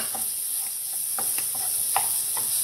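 Chopped capsicum hitting a hot pan with tomato paste, giving a steady close sizzle with light stirring scrapes and clicks over a constant hiss.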